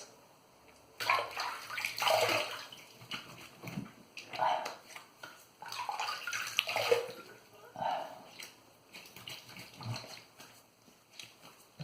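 Tap water runs in uneven gushes as a razor and face are rinsed between shaving passes with a boar-bristle brush lather. The sound is close and splashy, swelling and fading.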